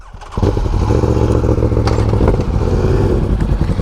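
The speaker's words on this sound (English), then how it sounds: "Your exhaust sounds insane" A motorcycle exhaust roars loudly up close, revving hard with a rough, crackling rumble that holds steady after a sudden start.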